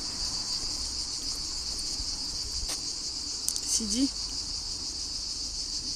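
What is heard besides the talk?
cicadas chirping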